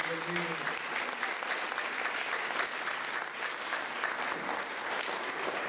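A church congregation claps in praise to the Lord, a full, continuous wash of applause at steady strength from start to finish, with brief tonal notes at the very beginning.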